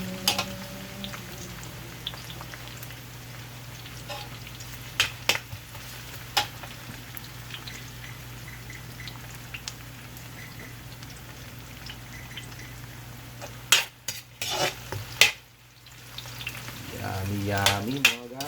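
Onion fries and is stirred in a pan for chicken curry, giving a steady soft sizzle with occasional scraping and clinking of a utensil, close up and without talk.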